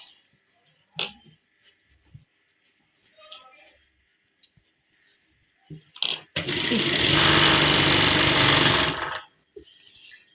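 Sewing machine running a continuous burst of stitching on a suit, about three seconds of steady, fairly loud mechanical whirring, with scattered handling clicks and knocks before and after.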